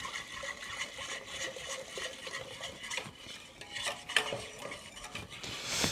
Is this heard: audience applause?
no